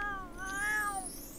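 A pet cat meows in The Sims 4, a single drawn-out, rising and falling call lasting over a second, fairly clear and alone.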